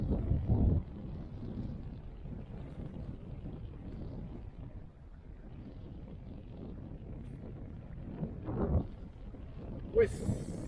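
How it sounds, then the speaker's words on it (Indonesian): Wind buffets a small action camera during an outdoor fishing trip, making a steady low rumbling roar with a few louder gusts. A voice speaks briefly under the noise. "Sekarang angin."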